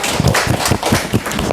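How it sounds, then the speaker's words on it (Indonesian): Classroom students clap for a group that has just presented, a brisk, close burst of uneven handclaps at a roughly rhythmic pace, loud and filling the whole moment. "Beri tepuk tangan dulu."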